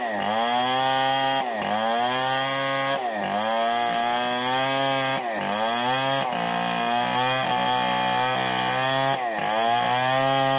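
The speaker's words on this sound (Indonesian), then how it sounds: "Gergaji bikin gorden." A Stihl 070 chainsaw cuts wood into long purlins in Banjarnegara, Central Java. Its loud, close engine whine repeatedly bogs down and recovers in a steady cycle of roughly one-and-a-half-second cuts.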